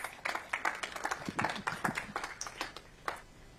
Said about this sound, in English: Welcome our panelists with a big round of applause.